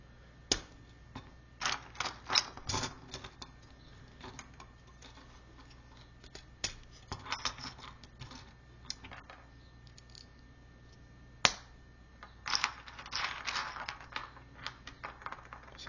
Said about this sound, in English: hear Lego parts clicking together